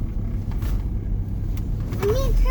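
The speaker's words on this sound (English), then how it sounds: "rust accumulates on the brakes, and then it makes this really terrible sound when you first drive it again" A widebody Audi A4 rolling again after sitting, with rust on its brakes, gives a low, muffled car rumble that ends in a brief, rising brake squeal near the end.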